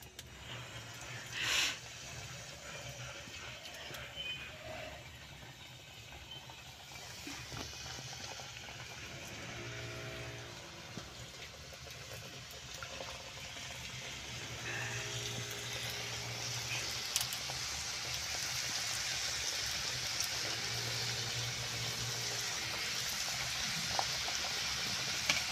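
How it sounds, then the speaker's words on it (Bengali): Nimki dough pieces deep-frying in hot oil in a kadai, a soft continuous sizzle and bubbling that grows steadier and fuller, quiet and close, with occasional faint clinks. "দেখুন বন্ধুরা, তেল ভালোভাবে গরম হয়ে গেছে। এবারে আমি কড়াই নিমকিগুলো ছেড়ে দিচ্ছি।"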